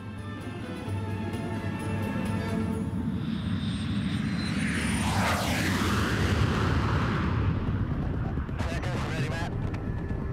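A carrier aircraft flies with a space plane slung beneath its fuselage, its engines giving a loud, continuous roar. A sweeping whoosh swells midway through, then the steady drone carries on.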